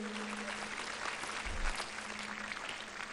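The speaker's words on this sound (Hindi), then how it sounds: "एक बार जोरदार तालियां हो जाएं इन बच्चों के लिए।" Hearty applause for a group of children at a school gathering at Acharyakulam in Haridwar, a steady, fairly distant crowd clapping sustained throughout with a faint low hum underneath.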